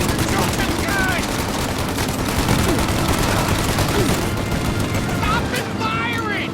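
Sustained gunfire in the video game Mafia: Definitive Edition, a dense, continuous fusillade of rapid shots and bursts that carries on without a break, loud and close, with shouted in-game voices mixed in.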